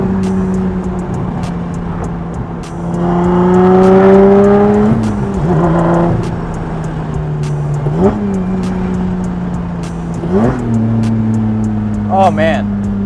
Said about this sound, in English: the downshifts are so satisfying to do in this car